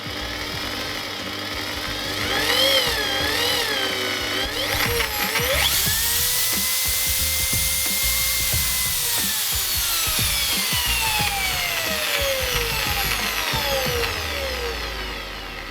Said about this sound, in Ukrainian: підключив її до мережі і попробуємо, наскільки кнопка тут чутлива, наскільки діє плавний хід